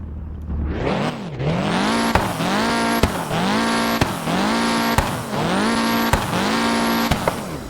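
A game car engine repeatedly revs up through gears, each climb cut off by a sharp shift click, loud and synthetic with a whining tone.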